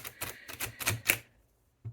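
Rapid papery flicks and riffles of tarot cards being shuffled, a quick clattering run that stops, then one last soft tap.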